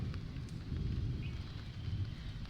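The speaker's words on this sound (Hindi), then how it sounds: "अब थोड़ा सा बारिश कम भी हो रहा है" Rain easing off outdoors by a cattle shed, a steady low wash of falling water with soft scattered patter, faint and continuous, no voices.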